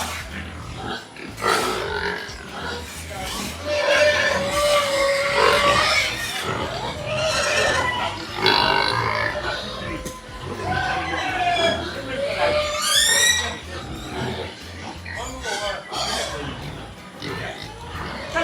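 Pigs on a large pig farm in Delta State, grunting and oinking close by with a few sharp squeals among them, while people talk over the animals throughout.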